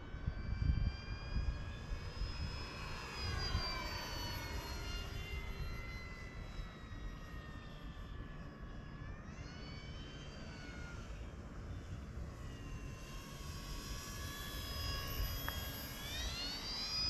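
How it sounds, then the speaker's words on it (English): A radio-controlled Arrows F4U-4 Corsair model airplane with an 1100mm wingspan, its high, whining engine climbing and dipping in pitch as it flies past and circles back, steady and fairly close. "It's a really nice plane."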